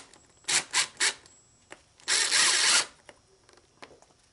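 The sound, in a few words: power drill screwing BMW VANOS part to the bench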